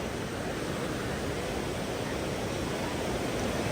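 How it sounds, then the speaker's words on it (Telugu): Steady broadband rush of a waterfall viewed from Kallar bridge near Munnar, continuous and even with no breaks, a dense wash of falling water heard from a distance. "అది వాటర్ ఫాల్ వ్యూ."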